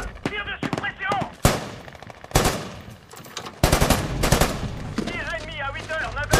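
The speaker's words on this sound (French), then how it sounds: "Tir de suppression." Film battle scene with bursts of suppressive automatic gunfire, loud sharp shots ringing out repeatedly across the whole stretch amid chaotic combat noise, with no voices during the firing.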